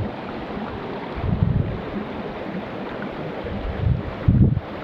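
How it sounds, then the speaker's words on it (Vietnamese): A strong stream rushes through deep forest in a steady, loud wash of water, with a few heavier surges standing out. "nên mới còn nước và chảy mạnh như thế này"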